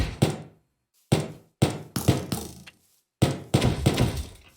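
Pistol shots from a gun mod in Minecraft, five or six sharp thunking reports with short decays and gaps between them, close and loud, no talk.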